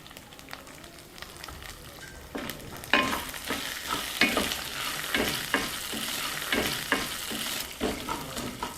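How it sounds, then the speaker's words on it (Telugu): Dry red chillies and tamarind frying in oil for curry leaf pickle, a sizzle that swells partway through and then carries rhythmic stirring scrapes of a spoon against the pan, close up and without talk. "దీన్ని బాగా వేయించుకుందాం"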